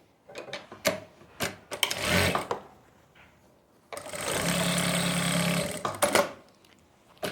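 A sewing machine stitches a seam along a palazzo pant pocket, running in short bursts at first and then in one longer steady whir, close and loud with no talking.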